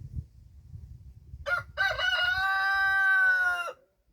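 A rooster crows loudly and close by in one long drawn-out call after a short cluck, with faint low rustling from chickens beforehand.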